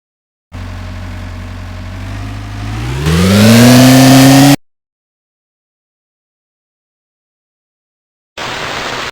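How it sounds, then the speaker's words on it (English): A video game truck engine drones steadily, climbs in pitch as it revs up, then cuts out abruptly into silence before a brief burst of noise returns. "Sad truck noises."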